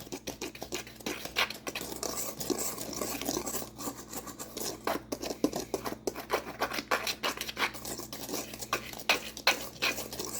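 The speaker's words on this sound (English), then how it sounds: "mix this with a whisk for about, I would say, a good 60 seconds" A whisk stirs dry cocoa muffin ingredients in a mixing bowl, giving fast, close, rhythmic scraping and ticking strokes that continue steadily for about ten seconds with no voices.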